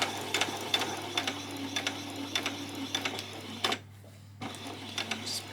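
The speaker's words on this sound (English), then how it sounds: "I'm going to do 2 rows of gathering stitches on the top of our sleeves" A sewing machine runs two rows of gathering stitches along the top of a garment sleeve, working slowly in short bursts of mechanical chatter with a brief pause in the middle before stitching resumes.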